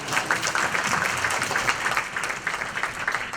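An audience at a talk with a Drikung Kyabgon Chetsang Rinpoche breaks into warm, sustained applause, dense clapping from many hands heard close and steady throughout.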